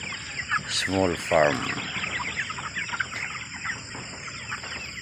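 Chickens cluck and squawk on a small farm, a couple of loud close calls rising above ongoing softer clucking while a person talks.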